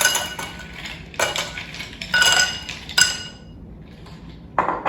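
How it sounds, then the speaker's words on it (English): Ice cubes clatter into a mixing glass for a Cabaret cocktail of dry vermouth, Benedictine and bitters, several separate bursts of bright clinking and rattling with short quiet gaps between them, close and fairly loud. "We'll add some ice to our glass."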